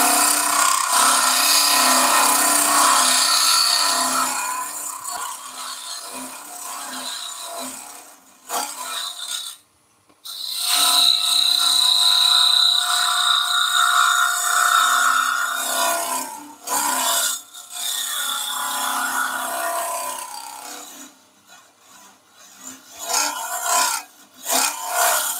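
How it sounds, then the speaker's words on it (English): A round-nose tool scrapes a spinning wooden flower on a lathe, making a loud rasping scratch that comes in long sustained passes, cut by short pauses and a final run of choppy, broken strokes. "Get in there and gently scrape away"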